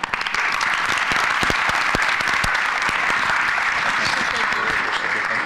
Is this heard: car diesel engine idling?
no